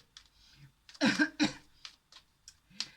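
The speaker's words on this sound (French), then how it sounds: "Je commence à tousser" A person coughs in a quiet room: a few faint throat sounds, then two strong close coughs, followed by several softer scattered coughs and throat clearings.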